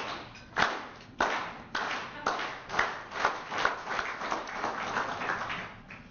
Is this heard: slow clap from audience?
yes